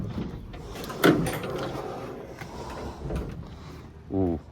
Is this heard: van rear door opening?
yes